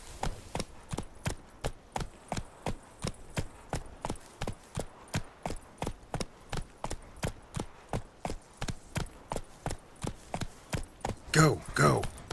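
Roach, a horse in the Witcher 3 video game, gallops with a steady, fast run of loud, evenly spaced hoofbeats close up, and a brief vocal sound breaks in near the end.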